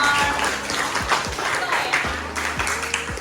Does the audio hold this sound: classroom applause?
yes